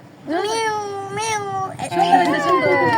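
A human voice imitates a cat, letting out two long, loud meows one after the other, with a further drawn-out voiced wail right after.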